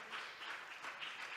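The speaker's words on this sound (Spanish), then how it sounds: "Denle un aplauso al Señor" A congregation at a church service applauds in a soft, distant wash of clapping, steady and faint for a brief moment with no voices over it.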